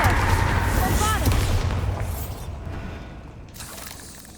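Bombarda spell explosion in Hogwarts Legacy, a loud booming blast with crackling debris that fades away over a few seconds.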